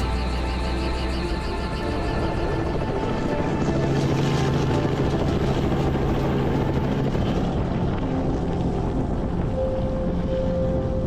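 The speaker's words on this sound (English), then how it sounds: "Let's get back to the chopper." Helicopter flying along a rugged, remote coastline, its steady rotor and engine drone loud and continuous throughout, with wind buffeting the microphone.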